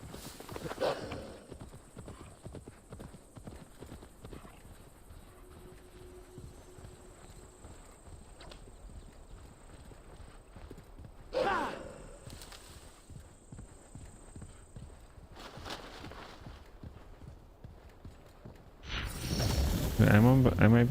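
Horse hooves clip-clop steadily while riding in the video game Assassin's Creed Valhalla, a faint rhythmic patter that runs throughout, with brief other game sounds and a louder burst near the end.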